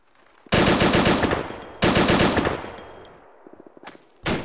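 Machine gun fire in the video game Arma 2, with two loud sustained bursts of rapid automatic fire, each trailing off with echo, then a short third burst after a pause.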